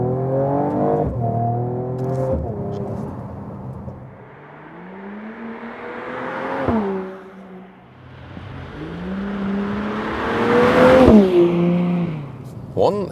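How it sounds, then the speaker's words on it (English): A 2019 Mercedes-AMG CLS 53 accelerates on a wet motorway, engine note rising through several gear changes, heard from inside the cabin with someone talking over it. "So let's give it another acceleration and also on the motorway for the test."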